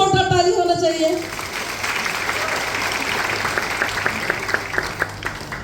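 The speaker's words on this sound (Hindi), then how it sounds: "कुछ उनके लिए जोरदार ताली होना चाहिए।" An audience seated in a hall breaks into a burst of applause right after a voice speaking in Hindi, and the clapping continues as a moderate, steady crackle of many hands.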